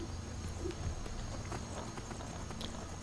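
Horse hooves clopping steadily while riding across a small bridge in Skyrim, a fairly quiet, continuous patter mixed with game ambience, with no talk.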